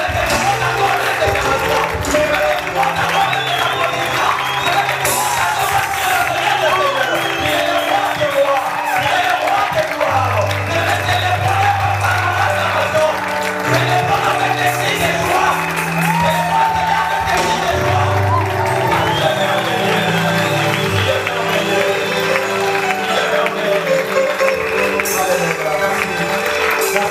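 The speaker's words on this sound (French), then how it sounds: "Nous voulons joindre nos deux mains pour célébrer ces Dieu-là par nos acclamations" A church congregation claps and cheers in acclamation, with sustained applause, whoops and shouts mixed with music, loud and continuous throughout with voices rising above the crowd.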